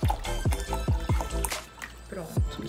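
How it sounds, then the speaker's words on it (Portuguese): Water, 500 ml, is poured into a measuring cup in a home kitchen, heard as repeated gurgling splashes and a filling tone in short bursts, fairly close. "Então eu peguei aqui um copo medidor e já vou colocar 500 ml de água"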